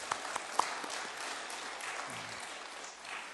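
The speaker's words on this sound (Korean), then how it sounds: "우리 박수로 한번 감사하겠습니다" A church congregation at a Sunday service gives sustained applause, a dense, even wash of clapping from many hands that holds steady throughout.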